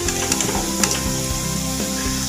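Cauliflower and pea koftas deep-frying to golden brown in hot oil, a steady close sizzle with bubbling crackle and occasional light scrapes, no talk over it.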